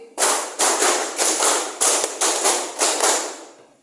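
A group of people clap in unison during a classroom clapping game, about eight sharp, crisp claps in a quick, slightly uneven rhythm, close and loud with no talking.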